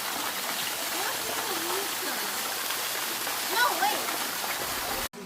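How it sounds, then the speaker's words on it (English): A waterfall at a nature resort in the Philippines gives a steady, even rush of falling water at moderate distance. A faint voice is heard under it before the sound cuts off abruptly at the end. "Wow, look at the waterfall."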